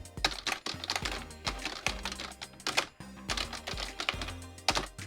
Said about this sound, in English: I had a male coworker who typed like this all day long.